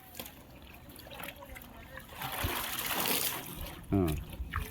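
Water sloshes and splashes as a silk wedding saree is dunked up and down in a bucket, soft trickles building to louder churning, with a heavier splash near the end and faint voices in the background.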